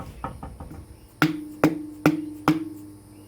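Hammer blows on a firearm silencer during a repack on a Cors-air Black Bull: a few light taps, then four loud, evenly spaced metallic strikes, each ringing briefly, close up with no talking.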